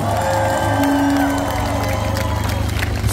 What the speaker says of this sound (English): let's have a big round of applause for everybody who is here today